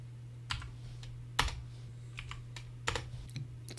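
Number entries typed on a computer keyboard, a few sharp key taps at irregular intervals with a steady low hum underneath.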